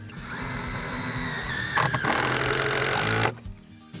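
A power drill drives a 3/16 stainless steel self-tapping screw through a starter rail into a stud: a rising motor whine, then a louder, harsher grinding burst as the screw bites, stopping abruptly near the end.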